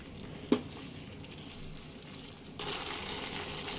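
Potol (pointed gourd) cooking with yogurt in a pan over a medium flame, a soft, steady sizzle with a brief knock of a utensil, then a louder, brighter frying hiss taking over partway through.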